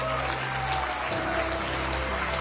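Audience applause at a comedy show, a dense, steady wash of clapping with a low hum and background tones running underneath.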